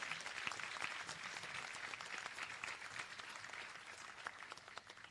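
An audience applauds the graduates at the 2022 Seychelles Business Studies Academy graduation ceremony, a dense, even wash of many hands clapping that carries on steadily and sounds somewhat distant.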